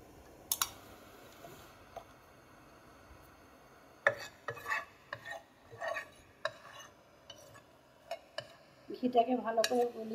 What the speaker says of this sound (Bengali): ঘিতে 6-8টা এলাচ ফাটিয়ে দিয়ে এবার আমি এটাকে নাড়াচাড়া করব, ভালো করে গলিয়ে নেব